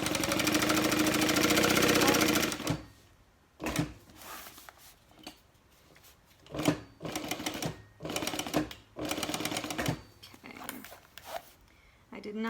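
A sewing machine stitches a tote bag seam in a steady rapid whir for a couple of seconds, then stops, followed by short intermittent runs of stitching and clicks with quieter pauses between them.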